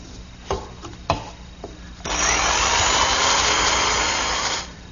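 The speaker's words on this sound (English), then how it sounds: "I'm finishing them up with my handheld jigsaw and the finest, narrowest blade I could find" A handheld jigsaw fitted with a fine, narrow blade cuts through wood in a steady, loud buzzing run of about three seconds, preceded by a few sharp knocks and taps.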